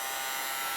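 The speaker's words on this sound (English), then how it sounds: "And then I'm going to use a heat gun, but you can also use a blow dryer." A heat gun warming a vinyl skin on a phone gives off a steady, even electric whir of motor and fan noise, a short continuous hum with no voices.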